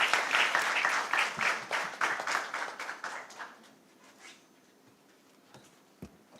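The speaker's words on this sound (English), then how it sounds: "Please give him a round of applause." Applause from the audience at a global finance conclave swells loudly at first, then thins out over a few seconds into scattered claps before dying away.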